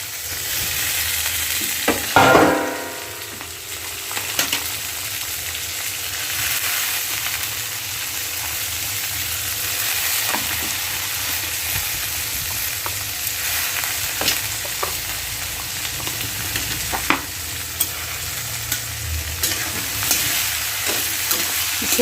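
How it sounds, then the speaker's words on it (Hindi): Vegetables and chopped onions fry in oil in a kadhai, giving a steady, close sizzle broken by the scrape and clatter of stirring, with no one talking. "इसे भी खूब अच्छे से तेल में ही फ्राई कर लेना है प्याज के साथ।"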